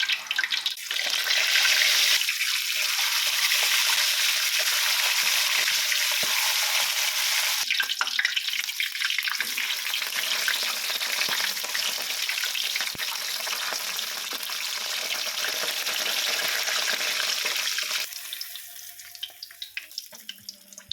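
Loma fish frying in hot oil in a wok with a few slices of asam gelugur, giving a loud, continuous hiss and crackle that holds steady, then thins and softens near the end.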